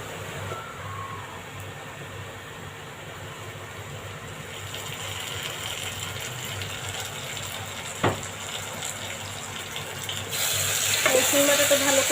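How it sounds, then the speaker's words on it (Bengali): Garlic paste fries with browned onions in a pan, a continuous sizzle with stirring scrapes, rising louder toward the end as the mixture is worked. "রসুন বাটাটা ভালো করে ভেজে নেব পেঁয়াজের সাথে, যেন কাঁচা গন্ধটা চলে যায়।"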